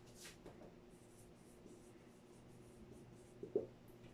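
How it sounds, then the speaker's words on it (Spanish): Pen or pencil writing by hand on paper gives faint scratchy strokes, soft and close, in short bursts with a small knock near the end. "si yo escribo"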